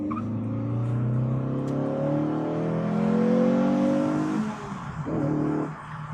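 An affordable small sports car's eager petrol engine revs up steadily and loud, its pitch climbing smoothly before dropping back and briefly settling. No voices are heard.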